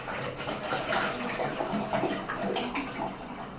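Water pours and splashes steadily into an ice bucket, a continuous close-up gurgling rush.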